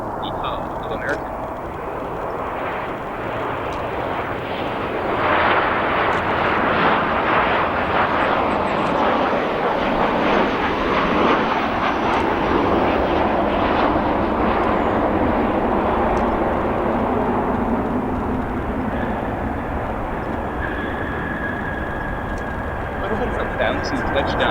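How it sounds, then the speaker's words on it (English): American Airlines Boeing 737-800 from Dallas-Fort Worth landing at O'Hare on runway 10 center, a loud, steady engine roar swelling and then easing as it passes, with a person talking over it. "Our next arrival here that we could pan over to is an American Airlines 737-800."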